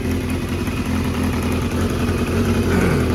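A Mini Tenere 700 project motorcycle runs close by with a steady idling drone and a ticking, puffing exhaust leak, and the revs rise slightly near the end, with no voices.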